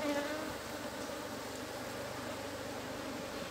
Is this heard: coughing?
no